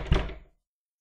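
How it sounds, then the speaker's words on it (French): A single dull thunk on a street door, close and fairly loud, fading quickly into silence. "on frappa à la porte de la rue."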